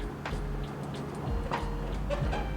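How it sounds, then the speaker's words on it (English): A loose aftermarket steering wheel in a car rattles with a few sharp, irregular clicks and ticks close by, set over a low steady hum of the cabin. "the steering wheel itself is actually loose. You can kind of hear it."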